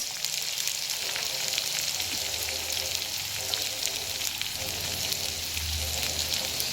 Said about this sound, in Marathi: आता कांदा आपला चांगला असा लालसर होऊन द्यायचा।